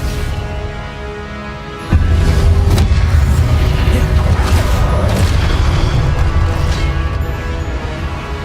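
A fiery explosive spell goes off in the wizarding game Hogwarts Legacy, a sudden loud boom that jumps in after a quieter stretch and rolls into a sustained, rumbling blast with crackling debris and magical effects layered over it.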